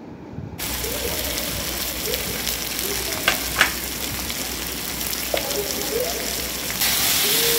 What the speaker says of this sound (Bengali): লবণ দিয়ে নেড়ে নিলাম